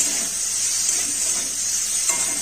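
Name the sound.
prawns frying in hot oil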